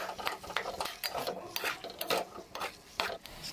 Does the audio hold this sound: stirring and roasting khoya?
yes